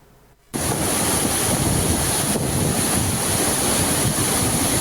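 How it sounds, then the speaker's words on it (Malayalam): The Valara waterfall at Vettilappara, where water drops in three tiers, makes a loud, constant roar. The roar starts abruptly after a brief quiet moment and continues unbroken as a dense rushing wash. "3 തട്ടുകളായി വെള്ളം താഴേക്ക് പതിക്കുന്ന അപൂർവ കാഴ്ച"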